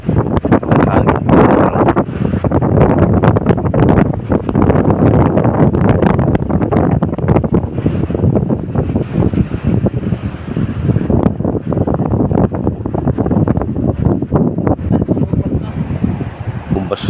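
A strong amihan wind blows through a mangrove park in Barangay Looc, Palanas, as a loud, constant roar with heavy microphone buffeting throughout, and a voice can be heard speaking under it.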